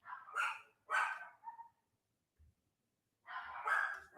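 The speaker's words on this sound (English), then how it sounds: "My dogs are barking." A dog barks indoors in a few short, sharp bursts: two quick barks, a softer yip, then a pause before another pair of barks, moderately close and without talk.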